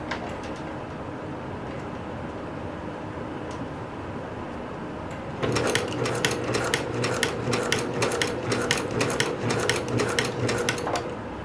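A sewing machine stitches a pants seam on a 5/8 inch allowance up toward the crotch, starting after about five seconds of quiet room tone as a steady, close, rapid mechanical whir with a fine ticking rhythm that runs to the end.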